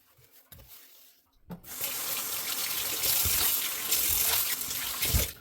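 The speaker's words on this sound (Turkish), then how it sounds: "Durulayın ama. Yani bunları böyle durulayın." Tap water runs steadily into a sink, rinsing a kitchen counter surface after cleaning with a general cleaner, a loud continuous splashing that starts after a brief quiet moment.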